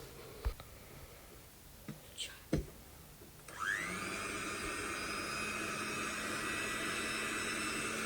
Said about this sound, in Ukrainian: І знову буду збивати міксером.